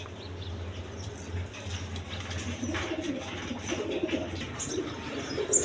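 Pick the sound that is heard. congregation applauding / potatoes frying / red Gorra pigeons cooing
red Gorra pigeons cooing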